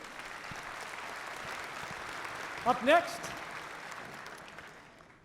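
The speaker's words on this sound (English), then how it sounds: "Give them a round of applause" Audience at a winter college commencement ceremony applauds in a steady, dense wash of clapping that fades toward the end, with a brief spoken phrase breaking through midway.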